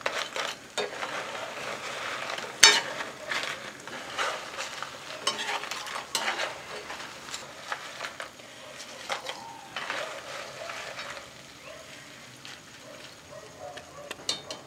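Diamond cuts, a fried snack, bubbling and sizzling steadily in hot oil until done, with light stirring and scattered scraping clinks from a utensil against the pan.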